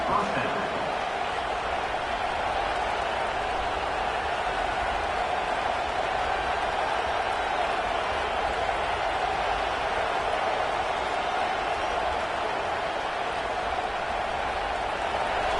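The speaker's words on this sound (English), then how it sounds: "This crowd, full throat, splitting the eardrums" A dense, steady roar of a large stadium crowd at a football game, cheering loudly and continuously with no breaks, close and enveloping throughout.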